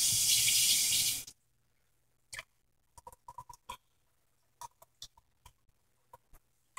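Tap water runs into a mixing bowl of bread dough for about a second, a loud steady rush that cuts off abruptly, followed by quiet scattered clicks and clinks nearby.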